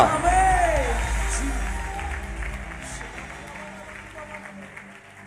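A church congregation applauding during a Malayalam Christian sermon, a burst of clapping mixed with a few whoops that fades gradually over several seconds, while a voice carries on over it.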